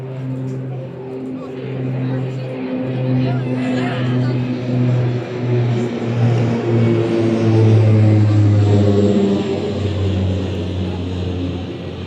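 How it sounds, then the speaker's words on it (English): A propeller airplane on a runway near a comic convention venue, its engine droning loud and steady with a deep rising hum that swells and builds as it powers up, close to the listener. "there had been a plane on the runway"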